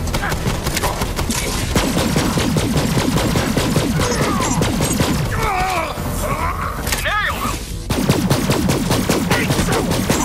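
Rapid gunfire bursts from a weapon in Borderlands 3, dense and loud with game effects and a rising whine, layered under continuous talk.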